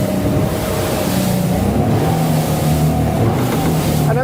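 A motor yacht cruising at around 27 knots drones with a steady, loud engine hum over rushing water and wind, its pitch edging upward as revs climb.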